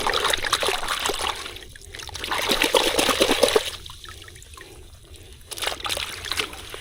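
Running water rinses a large live stone crab outdoors, a trickling, splashing flow that swells and fades over several seconds, close by.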